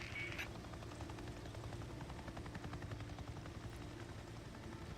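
Steady helicopter rotor thump from a Days Gone chopper, a continuous rhythmic chopping drone held at moderate distance throughout, with a brief sharp sound near the start.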